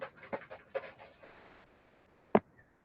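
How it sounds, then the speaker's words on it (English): A puppy pants quickly and faintly in the background in a series of short breathy puffs, then gives one sharper louder yelp-like whimper before quiet. "my puppy a little loud in the background"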